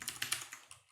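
Quick burst of close keystrokes on a computer keyboard while C code is typed, about eight crisp clicks in a short rapid run that fades out, with no talking.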